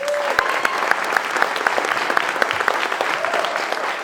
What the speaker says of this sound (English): All right, so we're gonna do a clap off.